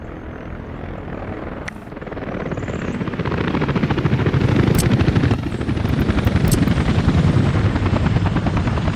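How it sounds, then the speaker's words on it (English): A helicopter's rotor thumps steadily with a whining engine drone in Workers & Resources: Soviet Republic, growing louder as it approaches and holding near and prominent. "The helicopters are arriving."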